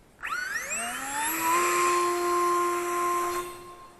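Eachine Flying Fish brushless RC plane motor spinning up to half throttle, a high whine that rises in pitch then holds steady, close, before cutting off near the end.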